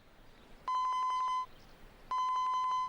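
A cell phone rings with two bursts of rapid electronic trilling tones, each lasting under a second and separated by a short gap, clear and fairly close against a quiet room background.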